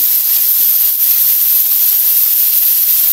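Squeezed, chopped banana heart goes into a hot pan and sets off a loud, continuous steam hiss close by, holding an even, bright sputter from start to finish with no talking.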